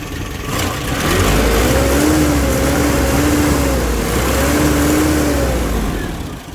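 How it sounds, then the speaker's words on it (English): A 1984 Nissan 720 truck engine runs steadily nearby, a low continuous rumble with a slight rise and fall in pitch as it idles and revs gently. "Motor does run."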